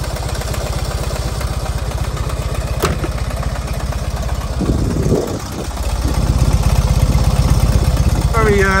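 An air-cooled 500cc two-cylinder Fiat 500 engine runs at a steady, throbbing idle, loud and close, with a sharp click and a brief dip partway through before the chugging pulse resumes.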